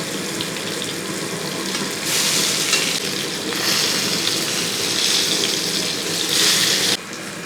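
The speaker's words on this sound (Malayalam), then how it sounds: "തിരിച്ചും മറിച്ചുമൊക്കെ ഇട്ട് നമുക്കത് ഫ്രൈ ആക്കി എടുക്കണം കേട്ടോ" Fish pieces for a Kerala fish masala frying in hot oil while being turned, giving a loud, continuous rushing hiss that surges in waves and cuts off abruptly near the end.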